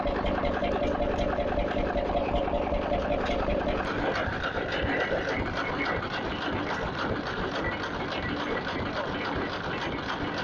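A rusted 1925 vintage stationary engine runs steadily at an outdoor rally, its dense, even mechanical chugging holding at a constant loud level throughout.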